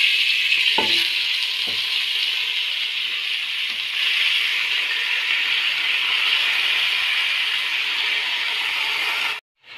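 Pieces of meat sizzle steadily in a pot of hot heated ghee, a loud continuous frying hiss with a couple of soft knocks near the start, ending abruptly.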